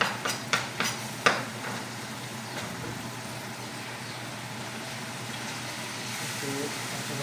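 Masoor dal with chopped coriander stirred in a pot, a few sharp spoon knocks against the pot at the start, then a soft continuous sizzle and scraping stir.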